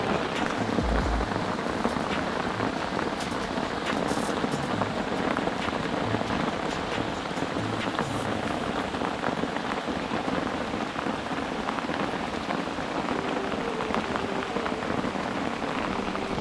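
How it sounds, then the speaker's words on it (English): Heavy rain pours steadily onto a bush camp, a dense, even hiss with drops drumming on surfaces and no break for the whole stretch. "not while it's raining like this. So fingers crossed this rain doesn't last too long"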